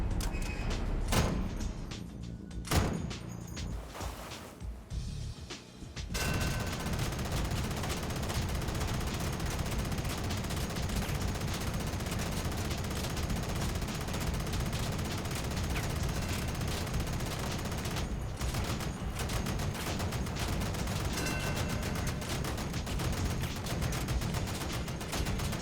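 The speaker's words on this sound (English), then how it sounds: "I'm gonna shoot at a target close range and a target long range" Sustained automatic fire from the Aspect machine gun in a video game, dense and loud for long stretches, with a couple of short breaks and isolated shots near the start.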